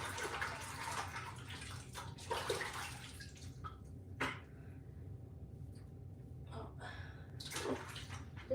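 Running water from a tap washes carrageenan marbling residue off in short gushing bursts. The splashing cuts in and out several times over a few seconds, close and fairly quiet, with no voices.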